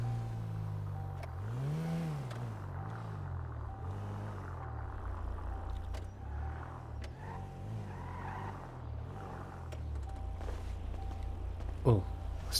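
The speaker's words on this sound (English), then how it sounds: "Oh, let's turn the engine off." A taxi engine idles and hums steadily in GTA roleplay, its low drone rising and falling in pitch as it revs, with a sharp brief noise near the end.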